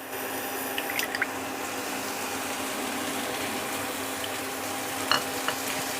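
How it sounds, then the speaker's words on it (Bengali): Potatoes frying in a pan with cumin powder give a steady soft sizzle throughout, with a few faint clinks of a utensil near the start and end. "দিয়ে আলুটাকে ভালো করে একটু ভেজে নেব।"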